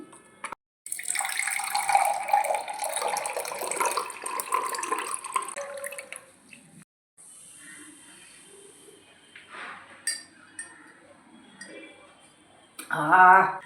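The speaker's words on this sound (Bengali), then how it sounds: "এতে একটু জল দিচ্ছি, দিয়ে পাতলা করে নিচ্ছি" Water pours from a tap into a container of ground amla paste, a rushing stream that stops and resumes, followed by clinks and stirring with a voice speaking at times.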